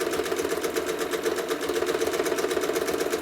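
A sewing machine stitches feathers on a quilt, running at a steady rapid rate with an even mechanical whir and clatter, close and continuous without pause.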